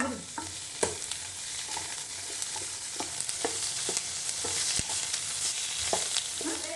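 Chopped onion frying in hot oil in a pan crackles and sizzles steadily, while a utensil stirs and scrapes through it in repeated close, sharp clicks.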